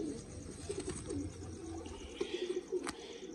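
A female pigeon coos in soft, repeated rolling calls, several low bursts near the microphone, with faint background noise and no talk.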